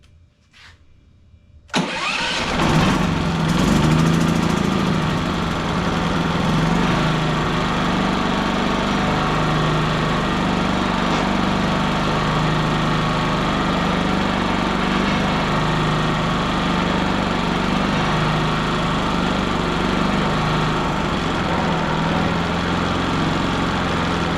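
A Westinghouse iGen4500 generator's engine starts after a second of near silence, then runs steadily at a loud, constant mid-pitched drone for over twenty seconds, close by with no talking.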